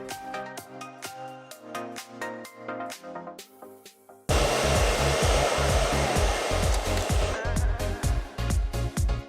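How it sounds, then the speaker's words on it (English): A hair dryer blows steadily while hair is styled with texture cream and mousse in a salon cutting session, first through music and then a loud, continuous close roar that fills the second half. "For blow drying her hair"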